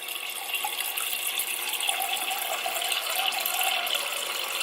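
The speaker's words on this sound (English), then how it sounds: "So I am just gonna get a mug and I'm gonna fill it with water." Tap water runs steadily into a mug, a continuous close splashing rush that holds level throughout.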